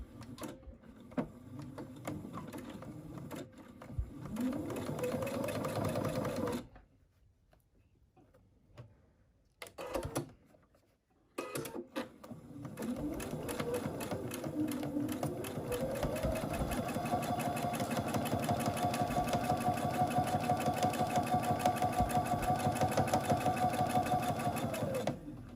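A sewing machine runs a quarter-inch seam on a baby's sun hat in steady, close, whirring bursts, with two short pauses near the middle. The motor's pitch rises as it speeds up and then holds a long, even run.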